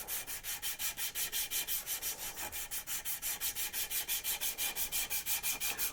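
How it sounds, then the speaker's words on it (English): Steady rhythmic sanding of a violin's wooden fingerboard, quick side-to-side sandpaper strokes on a sanding stick repeating evenly, close and fairly loud with no voices. "While sanding side to side, keep the sandpaper moving with as even pressure as possible"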